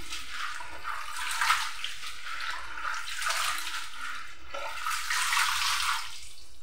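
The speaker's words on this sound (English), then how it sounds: "how I normally wash my sagaa so as to remove the particles in the vegetable" Sagaa leafy vegetables being washed by hand in water to remove sand and stones, soft continuous sloshing and splashing in gentle surges, fairly quiet and close, without speech.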